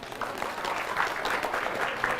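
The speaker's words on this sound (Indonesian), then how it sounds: "Dari bunyi tepuk tangannya, tepuk tangan orang kepanasan." Steady applause from an audience at an Islamic religious lecture, a dense even patter of clapping hands sustained throughout without pause.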